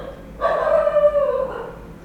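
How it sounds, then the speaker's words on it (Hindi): A single dog bark stretching into a drawn-out, whining yelp, close and clear against a quiet background with no talking. "अरे कौन भौंक रहा है ये बदतमीज?"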